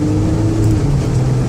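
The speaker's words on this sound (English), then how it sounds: "get them out on the highway so you can hear the engine run, hear the transmission shift" A 2008 Chevrolet Uplander wheelchair van with 133k miles runs at highway speed on a test drive, its engine giving a loud, steady droning hum with road noise.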